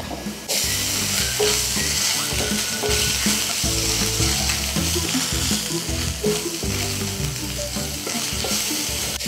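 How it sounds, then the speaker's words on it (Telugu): Ginger garlic paste frying with onions and turmeric in a pan, a steady loud sizzle running throughout, with scraping stirs and clinks of a spoon against the pan, and no voices. "ఈ అల్లం వెల్లుల్లి పేస్ట్ 1 నిమిషం వేగే వరకు వేయించుకోవాలి."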